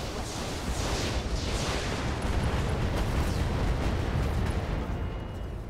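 Weapon fire and a large explosion in the Roguepoint video game: a dense, loud, sustained roar with rolling booms and crackling bursts that lasts several seconds, with no voices.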